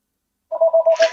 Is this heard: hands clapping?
no